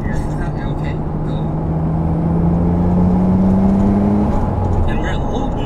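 A Nissan Skyline GT-R R34 engine pulls under boost from inside the cabin, its tone rising steadily in a long acceleration, with a voice talking over the drone.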